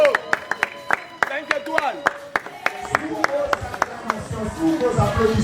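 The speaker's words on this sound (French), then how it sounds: "vos applaudissements, sous vos ovations frénétiques" A crowd at a political rally claps in sharp, irregular bursts that build into denser applause and cheering, loud and close, with voices mixed in toward the end.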